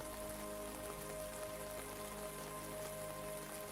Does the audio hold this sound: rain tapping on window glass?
yes